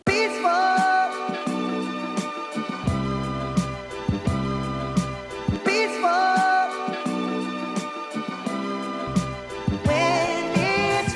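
A muffled, filtered music loop on an MPC with sustained chords and melodic lines, no kick drum thumping underneath, playing continuously with no talking.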